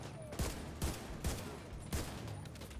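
Four single gunshots fired one at a time at uneven intervals in Tom Clancy's The Division 2, a co-op shooter played on PC, each a sharp crack over a quiet, low background.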